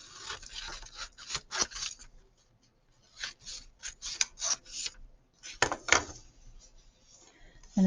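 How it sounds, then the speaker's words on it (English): Scissors cutting paper along dashed lines for a notebook make short bursts of crisp snipping and rustling, in clustered strokes separated by brief pauses, fairly close. "you can cut along the dashed lines"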